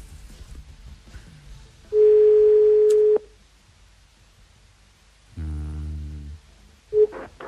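Telephone tones sound alone: a long steady beep, a pause, then a buzzier tone and a short final beep.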